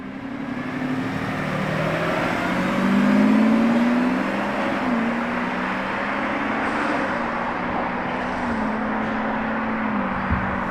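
A Lamborghini Revuelto drives past on the road, a steady loud engine drone with a rising swell in its pitch near the middle, then holding at an even level as it moves by.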